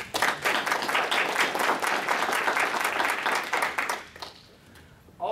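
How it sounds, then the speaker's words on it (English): Audience applause at a city council candidate forum hosted by a chamber of commerce, loud, steady clapping from a room full of people that dies down near the end. "Please let's give them a round of applause."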